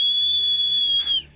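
A single long, high, steady whistle held for just over a second, loud and close, then sliding off abruptly and fading into quiet in an animated cartoon.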